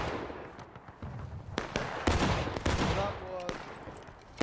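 Musket gunfire in War of Rights, a multiplayer Civil War battle game, cracks in several loud, close shots. A ragged volley rolls on around them, with a few distant reports and some voices mixed in.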